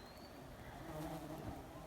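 Bees fly around a mowed yard and driveway. Their soft, steady buzzing hums at a distance, faint and continuous, with no talk over it.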